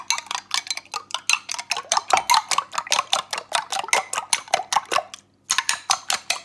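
Two eggs are whisked briskly in a bowl, giving quick, even clicks and taps in a steady rhythm, close and crisp, with one short pause near the end before the beating resumes.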